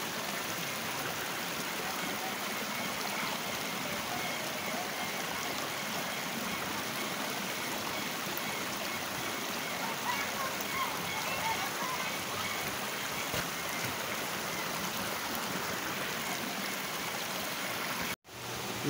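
Water runs steadily down a stream in rural Santa María Temascalapa, Hidalgo, Mexico, a constant close rushing and trickling wash that cuts off abruptly at the end.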